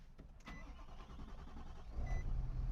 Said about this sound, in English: Listen to that diesel rattle.